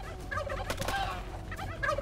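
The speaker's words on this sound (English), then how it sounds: "right now I'm literally just trying to take out all the turkeys" Turkeys gobble in the video game How To Survive 2, several rapid warbling gobbles in quick bursts at moderate volume, alone without talk.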